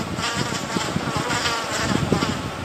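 Steady, dense buzzing of many honeybees swarming close by, a continuous drone with no voices.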